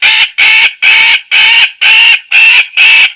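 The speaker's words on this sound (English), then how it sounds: "The first example is an alarm or distress call produced by a magpie bird." A magpie gives an alarm or distress call: seven loud, harsh, evenly spaced squawks in a steady rhythm, close and alone.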